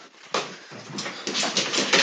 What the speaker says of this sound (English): dang dogs